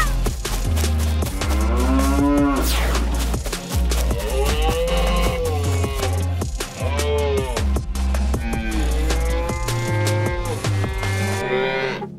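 Cows moo repeatedly, loud and close, several long drawn-out calls overlapping one another, backed by a constant low rumble and scattered sharp thumps throughout.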